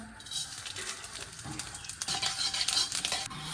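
Bengali five-spice seeds go into a small splash of hot white oil in a home kitchen, giving a soft sizzle mixed with stirring scrapes and light utensil clinks that grow a little busier toward the end.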